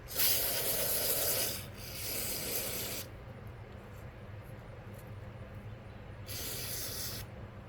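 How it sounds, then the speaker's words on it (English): CRC brake cleaner is sprayed onto the low speed needle of a Mach .26 nitro RC carburetor in three short hissing bursts, the first longest, separated by quiet pauses, close to the microphone. "Let's spray off the low speed needle."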